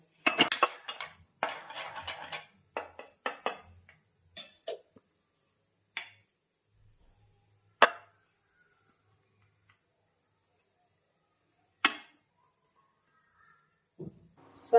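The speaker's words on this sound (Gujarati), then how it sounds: "થોડી કંઈ છાશ નાખીને અને બરાબર મિક્સ ડાયરેક્શનમાં હલાવીને મિક્સ કરી લઈએ" A spoon stirring instant idli batter with buttermilk and salt in a bowl: a busy patch of scraping and clinking at first, then sparse, isolated metallic clinks with long quiet gaps, close and fairly soft.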